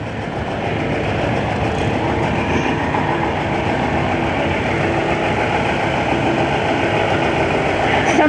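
Farmall Super A antique tractor rolling past in a parade, a dense continuous engine rumble and mechanical clatter, loud and steady throughout with no talk over it.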